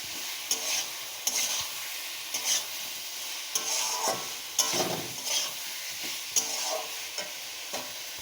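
Fried potatoes stirred into a bubbling egg and potato curry, with a steady sizzle and repeated scraping strokes of a spoon against the pot at a moderate, close level, without talk.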